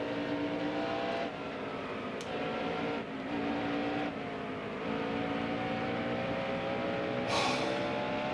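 A race car engine in the NASCAR Heat Evolution video game drones steadily at Bristol, with pitch shifting slightly and a few brief clicks, at moderate level.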